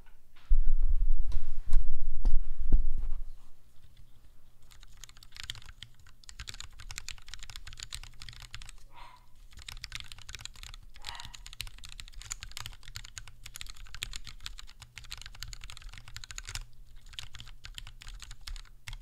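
Steady, muted typing on an RGBKB Sol 3 mechanical keyboard with an FR4 plate, close up, with a few heavier thumps at the start before the rapid clacking continues.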